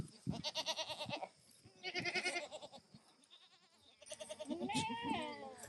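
Two goats, twin sister does, give repeated loud, quavering bleats in a farm pen, close by. The calls come one after another in a short series.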